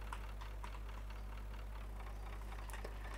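An MTZ tractor idles in Farming Simulator 19 with a steady, low engine drone. Faint clicks and taps sit over it, and nothing else stands out.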